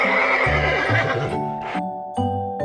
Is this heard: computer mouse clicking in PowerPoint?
no